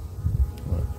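Buckfast honey bees buzzing at an open hive, a close, continuous low droning hum with fluctuating intensity.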